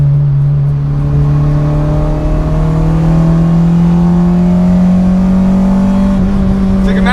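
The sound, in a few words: Acura RSX accelerating hard, tires losing traction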